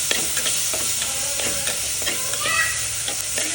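Green chili, tomato and garlic frying together in a pan for a bitter gourd curry, a close, steady sizzle broken by several stirring scrapes and clinks, no voices.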